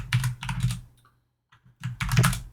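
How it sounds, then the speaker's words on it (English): Computer keyboard typing comes in two quick bursts of close, clattering keystrokes separated by a brief near-silent pause. "When I'm typing at a weird angle, so I'm always like off my keystrokes."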